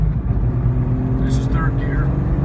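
Jeep Cherokee Sport with a 4.6 stroker engine and recently rebuilt AX15 transmission cruising in third gear, a steady low engine rumble that holds evenly throughout, with faint vocal sounds in the background.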